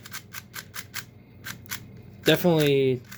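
Quick, crisp plastic clicks tap in an uneven rhythm as a magnetic Rubik's speed cube is turned close to the microphone, then a person speaks briefly at the end.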